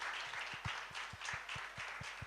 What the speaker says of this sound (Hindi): एक बार जोरदार तालियां हमारे पीजी के स्टूडेंट्स के लिए।